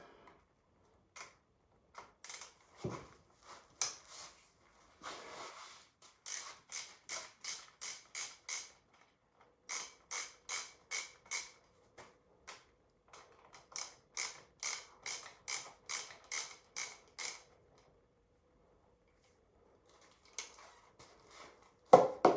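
Rapid bursts of ratchet clicking from a wrench working bolts loose during a dragster engine teardown after the motor has sat unused, coming in repeated rhythmic runs with short pauses between, close and fairly quiet, with no talking.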